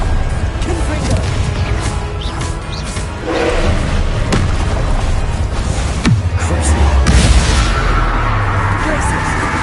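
Spell-blast explosions from a Hogwarts wizard-battle video game, several heavy booming thuds and crashes spread across a dense, loud mix with game noise and voices throughout.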